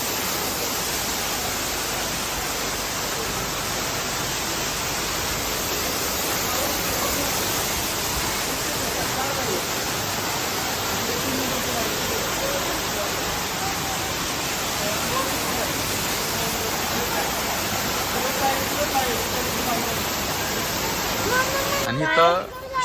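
Steady, dense rushing of falling water splashing nearby at Mahabaleshwar, continuous and loud throughout with no breaks.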